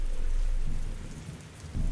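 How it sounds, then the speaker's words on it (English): Steady rain falls on an empty street at night under streetlights, a continuous dense hiss filling the scene with a faint low rumble swelling near the end. "The street was empty, rain softly falling under the glow of the streetlights."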